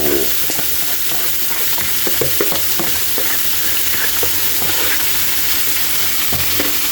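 Loud, steady sizzle of pork mask frying in a pan for dinuguan, with scraping and clattering as it is stirred, close up and continuous without talk.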